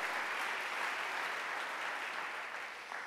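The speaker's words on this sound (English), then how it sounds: "Can we give them a round of applause?" Audience applause for event sponsors at a charity fast-pitch final showdown: steady, dense clapping that fills the hall for about three seconds and tapers slightly at the end, with no voices over it.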